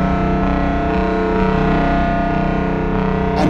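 A Roland S1 synthesizer plays a sustained, buzzy bass tone with delay and reverb added, filter turned right down, droning steadily and loudly on its own.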